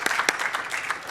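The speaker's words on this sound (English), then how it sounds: "Round of applause." A short burst of audience applause at a media-release education session, uneven claps from a modest crowd, close and fairly loud with no talking.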